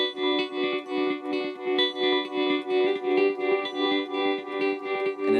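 A sustained guitar tone through a Boss DD-20 delay pedal with tremolo, echoing delay pulses in a steady, rhythmic tremolo, swelling and dipping about twice per second.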